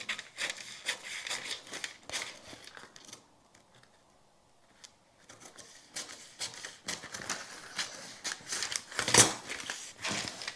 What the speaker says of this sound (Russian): Вырезаю.